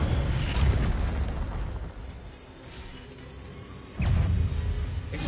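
A video-game Incendio fire spell from the Harry Potter world: a loud, fiery whooshing burst at the start, a quieter lull, then a second roaring blast near the end.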